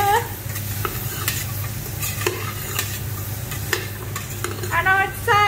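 Chopped vegetables and chilies for soup cook in a pot over medium-low heat, a soft continuous sizzle broken by repeated scraping and clacking stirs of a utensil against the pot.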